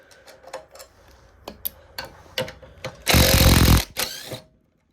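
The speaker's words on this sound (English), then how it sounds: "Take off the mounting bolts for the torque converter." A 10 mm wrench ratchets out torque converter mounting bolts on a built 212 engine, giving a series of sharp metallic clicks and ticks with scattered taps, then a brief louder grinding rush near the end, close up.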